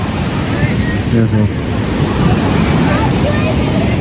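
Steady roar of sea surf washing on Puri beach, India, loud and continuous, with wind buffeting the microphone and a voice speaking briefly underneath.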